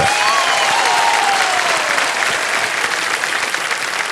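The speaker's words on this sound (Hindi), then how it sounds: "ताली बज जाए इनके लिए" Steady, dense applause from a studio audience at an Indian television quiz game show, loud and sustained throughout without a break.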